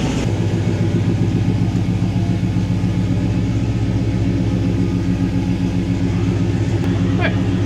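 A big-block Ford Bronco engine runs steadily while the truck backs out slowly, a loud, close, continuous low rumble that holds throughout.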